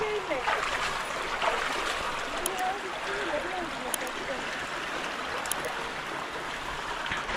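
Monsoon water flows steadily through a village farm plantation, a continuous nearby gurgling rush with occasional light splashes.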